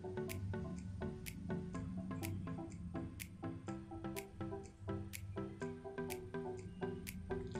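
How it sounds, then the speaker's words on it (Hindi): Cold water pours over sago pearls sitting in a strainer, giving a continuous close splashing trickle with regular bright drips and squishy wet pulses. "तो इस साबूदाना के ऊपर अब हमें ठंडा पानी डालना है, ताकि साबूदाना एक एक रहे"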